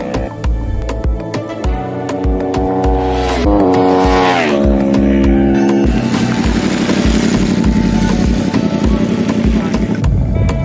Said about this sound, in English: One of the guys I was with wanted to push his bike to the limit